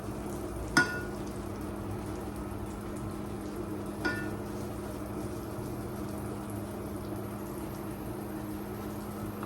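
Vegetable oil and butter melting in a pan before rice is toasted for Mexican rice, giving a steady, quiet sizzle and bubble with two faint clicks early on.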